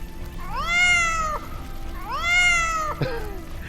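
A cat in the video game Born Punk gives two long, rising-then-falling meows, close and clear, followed by a short sharp click.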